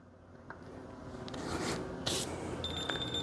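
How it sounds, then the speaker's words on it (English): Quiet rubbing and handling noises beside a car tire during a string wheel alignment, then a short, high electronic beep as a digital scale is zeroed near the end. "Hear that beep? That means I'm zeroed out"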